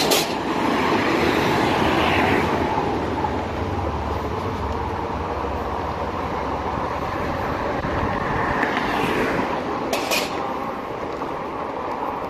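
A train passing through near a road, heard as a steady, loud broadband rumble and clatter from a moving electric fat-tire bike ride, with road and wind noise mixed in throughout.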